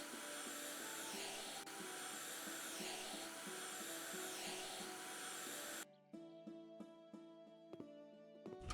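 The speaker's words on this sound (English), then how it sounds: "Vacuum noises again." Vacuum cleaner in the House Flipper video game, a steady loud whirring drone running alone for about six seconds before cutting off abruptly, leaving quieter tonal game sounds.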